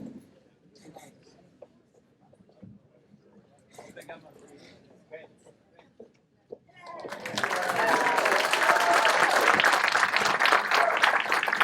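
Loud audience applause fills a hall at the Saints Hall of Fame ceremony, breaking out suddenly after a stretch of quiet murmuring and holding as a dense, steady roar of clapping to the end.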